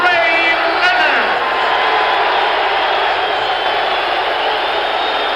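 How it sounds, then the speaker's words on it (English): A big crowd roars and cheers steadily at Olympic Stadium before the 1980 Roberto Duran versus Sugar Ray Leonard welterweight title boxing match, a dense, loud, continuous wash of voices with whoops and shouts throughout. "Big crowd at Olympic Stadium ready for this showdown"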